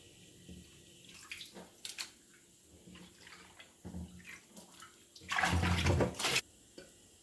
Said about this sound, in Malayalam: ഉപ്പിട്ട് കുറച്ച് മഞ്ഞൾപ്പൊടി ഇട്ടൊരു 3-4 വെള്ളത്തിൽ മീൻ നന്നായി കഴുകിയെടുക്കണം